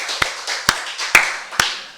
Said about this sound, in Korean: 우리 박수를 하나님께 영광 드리겠습니다.